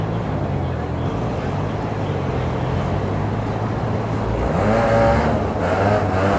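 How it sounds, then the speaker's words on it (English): A BMW E36 rolls past at a nighttime car meet, its steady engine rumble and road noise swelling slightly near the end amid a constant crowd and traffic background. "now we have an E36 that is moving"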